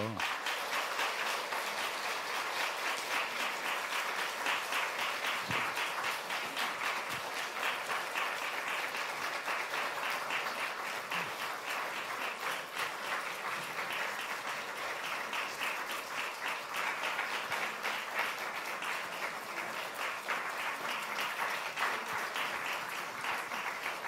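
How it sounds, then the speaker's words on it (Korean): A church congregation applauds steadily during a new-member completion ceremony as gifts and flowers are handed out, a dense, even wash of many hands clapping that holds for the whole stretch without pause. "자, 박수해 주세요."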